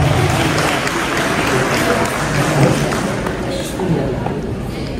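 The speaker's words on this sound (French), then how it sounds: "Je vous demande d'applaudir très fort pour cela." Audience applause at a Guinean community's 67th independence anniversary celebration in Columbus, Ohio, a steady, dense wash of clapping filling the room for about five seconds, with murmured voices mixed in.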